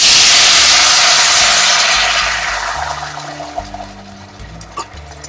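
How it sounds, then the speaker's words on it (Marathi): Hot water pours and hisses into a pot of raw mango and jaggery, a strong rushing splash at first that gradually fades to a softer simmering bubble. "गरम पाणी टाकायचं मग"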